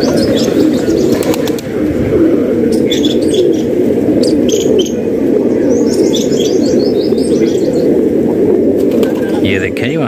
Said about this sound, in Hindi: दोस्तों ये पीले खोखे के कबूतर हैं